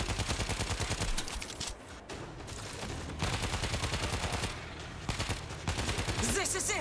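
Rapid bursts of assault shotgun fire in World War Z: Aftermath, loud and close, nearly continuous with short pauses between volleys, while a player talks over the shooting.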